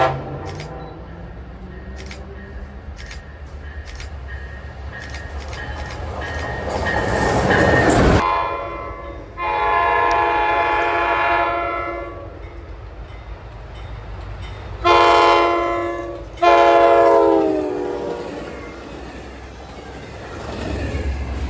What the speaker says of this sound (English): Amtrak PO29 with the 301 Heritage unit, supposedly.